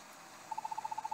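Owl-like bird hoots in the video game A Link Between Worlds, a steady run of about ten short, evenly spaced soft calls at moderate distance over a quiet background hum.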